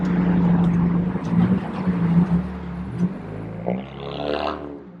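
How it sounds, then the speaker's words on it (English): Loud freeway traffic beside a car meet: a dense, steady roar of passing vehicles with a low engine drone, ending in one close vehicle rising and sweeping past. "It's loud ass freeway right here."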